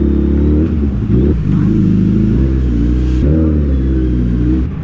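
A Suzuki Hayabusa motorcycle engine rumbles nearby, revving up and easing off as the bike rolls in, loud and continuous.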